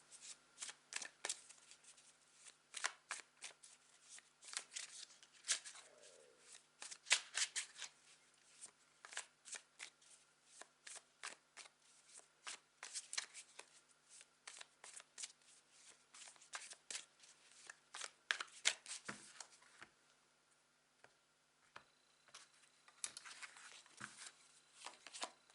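Tarot cards being shuffled by hand, soft and close, in rapid bursts of riffling flicks separated by brief pauses, repeating steadily throughout with no talking over it.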